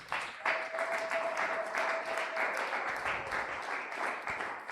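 A church congregation applauds steadily at a Sunday worship and thanksgiving service, a dense, even wash of clapping held at moderate loudness throughout, with a faint sustained tone running beneath it early on.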